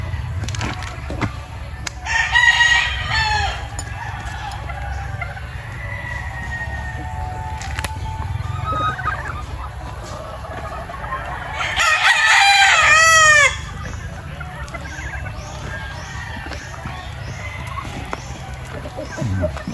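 Young roosters (stags) on a poultry farm crow loudly in two bursts, and clucks and other farm sounds run steadily underneath. A voice speaks briefly at times.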